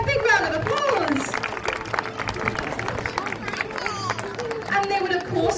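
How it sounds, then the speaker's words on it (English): Audience applause and cheering from a crowd, sustained clapping mixed with chatter and voices. "Let's give her a big round of applause."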